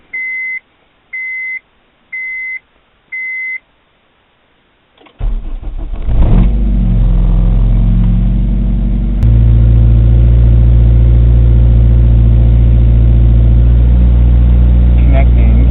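Honda RSX with a K20A2 engine: four short electronic beeps, a pause, then the starter cranks and the engine catches, settling into a loud, close, steady idle that steps up slightly partway through.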